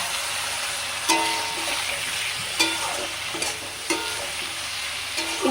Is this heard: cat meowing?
no